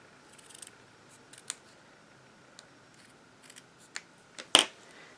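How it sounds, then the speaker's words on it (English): Scissors snip through cardstock while a Halloween card is made, giving a few quiet cuts and then one sharp, close snip near the end, with no one talking. "I think it will be nice if I cut a little bit of these so it doesn't show up"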